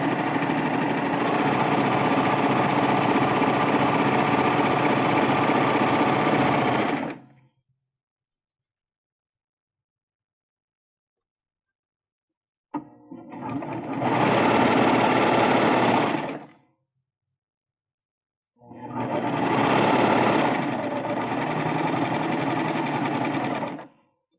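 A sewing machine stitches a drawstring backpack seam in three loud, steady runs, a long one first and then two shorter bursts after a silent pause, close by with no talking.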